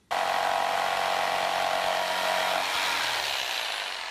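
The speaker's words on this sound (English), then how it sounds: "And then I can cut it out with a jigsaw." Jigsaw cutting wood while making a TV cabinet, a loud continuous buzzing saw whine that starts abruptly and holds steady, shifting pitch slightly partway through, with no talk.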